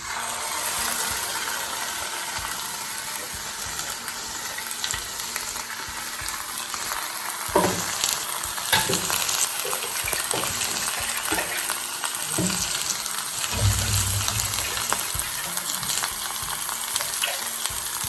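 Dry prawns fry in a pan for a Tulu-style dry prawn chutney, giving a steady close sizzle with intermittent scraping stirs and no speech.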